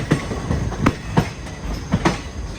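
The Circar Express rolls along on its journey between Chennai Egmore and Gummidipoondi, wheels beating a steady clickety-clack with periodic sharp thumps over rail joints, under a constant rumble of the moving carriage.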